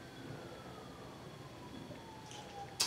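A faint, distant emergency siren drifts slowly downward in pitch under a low background hum, ending with a brief sharp click.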